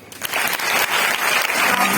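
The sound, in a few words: audience applause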